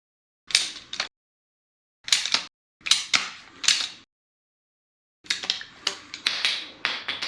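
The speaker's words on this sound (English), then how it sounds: "You just kind of ratchet this blade through." A Klein PVC pipe cutter ratchets through PVC conduit in sharp clicking bursts, one short group, then three, then a longer run of quick clicks, close and crisp with silence between.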